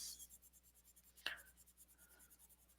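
Arteza Expert colored pencil pressed hard onto paper, giving a faint, steady scratchy rasp of strokes with one sharper tap partway through.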